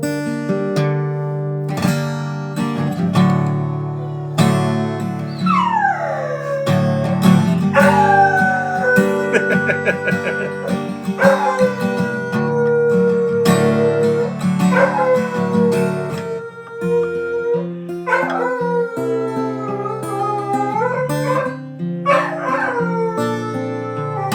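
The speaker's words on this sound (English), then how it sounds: "Yeah, that's a good singing dog." A dog howls along with sustained background tones, in long wavering wails that slide up and down, broken by yips and whimpers. It is loud and close and continues for over twenty seconds.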